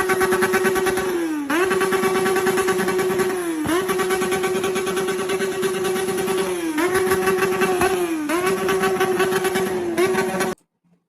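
Loud motorcycle engines revving in repeated surges, each burst of throttle rising and then dropping back in a steady rhythm, close by and alone until a sudden cutoff near the end.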